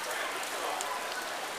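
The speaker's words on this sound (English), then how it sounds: "It is pouring down rain." Heavy rain pours down steadily outdoors at a pork expo, a dense, even hiss of drops hitting surfaces that fills the whole moment without pause.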